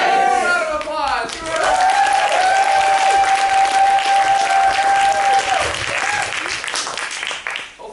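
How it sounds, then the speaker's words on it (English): Audience at a live improv comedy show bursting into loud, sustained clapping and cheering that holds steady before tapering off at the end, with a held whistle-like tone partway through. "Round of applause"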